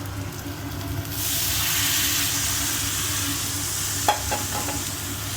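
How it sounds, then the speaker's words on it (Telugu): Cauliflower hits a hot pan of oil with green chillies and red chilli powder, erupting into a loud, steady sizzle, with a few clinks of a spoon stirring near the end. "ఇప్పుడు ఇది వేసేసుకుందామండి కాలీఫ్లవర్"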